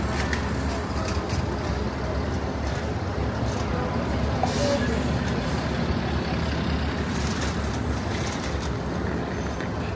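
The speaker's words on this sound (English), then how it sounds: "And this is the M2 bus." An M2 city bus on 5th Avenue in Manhattan rumbles loudly and continuously close by, with a brief sharp air-brake hiss midway amid the street traffic noise.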